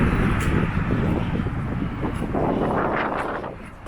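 Strong wind buffets the microphone at an industrial harbour in Guernsey with fishing boats, sailboats and large cranes, a steady broadband roar that rises and falls a little for nearly four seconds with no talk over it.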